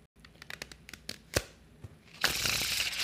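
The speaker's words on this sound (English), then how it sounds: "Can I shuffle them with one hand? Yeah, I can do that." Playing cards riffling in a one-handed shuffle of a deck, a run of quick crisp snaps and flicks followed by a sustained dense fluttering burst, close and clear with no talking.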